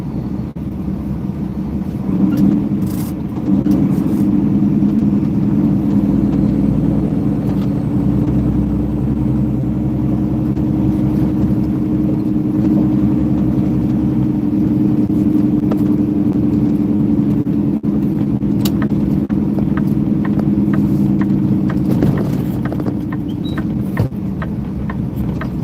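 An 18-speed semi truck, 75 feet long and loaded to 80,000 pounds, drives on California's 101 North, its engine a loud, steady low drone and rumble heard from inside the cab, with no talking.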